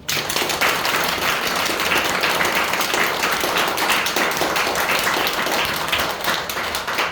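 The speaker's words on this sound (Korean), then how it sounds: "박수 한번 쳐" A church congregation claps together during a worship service, a steady, dense wash of applause that stays loud and even throughout without pause.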